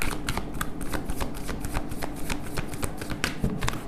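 Tarot cards are shuffled close up in a quick run of crisp riffling flicks and soft slaps, fairly quiet, with no talking.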